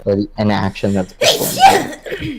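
One sharp sneeze bursts out after a few seconds of talk among tabletop role-playing game players, followed by brief chuckling and more speech.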